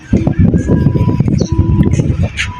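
Birds call at a seaside spot with repeated chirps and coos scattered through the clip, heard under steady nearby talking.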